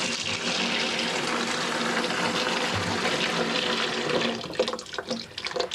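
Water running hard from a tap to fill buckets for cleaning up blood, a loud continuous gushing rush that turns choppier and more splashy near the end.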